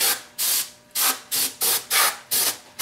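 Repeated short bursts of aerosol spray on an engine part, about seven hissing blasts in an uneven rhythm with brief pauses between, close and fairly loud, no talking.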